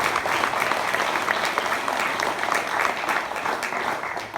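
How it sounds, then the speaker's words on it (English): A conference audience at an opening session gives a dense, steady round of applause that carries on evenly throughout. "Let's give a round of applause for them, because without them, the conference would be much more expensive."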